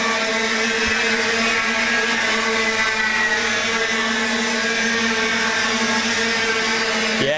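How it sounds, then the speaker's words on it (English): IAME 100 kart engines at an IKC Championship KA100 race scream across the finish line, a loud, sustained high-revving drone with steady harmonic whine throughout, no talk over it. "You can hear the IAME 100 engines roar their way across the line."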